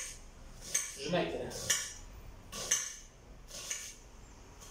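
Knife chopping onion on a board in a home kitchen, several sharp clicking blade strikes spaced about a second apart, close and moderately loud, with a person talking over it.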